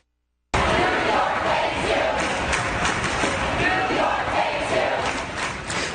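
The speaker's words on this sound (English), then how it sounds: "Thousands of protesters have been standing around Trump Tower since Sunday, shouting and holding up anti-Trump signs" Crowd of anti-Trump protesters shouting outside Trump Tower in New York, a dense, continuous roar of many voices close by that stays loud from start to finish.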